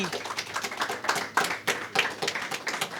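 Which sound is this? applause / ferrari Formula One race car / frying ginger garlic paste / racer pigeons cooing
applause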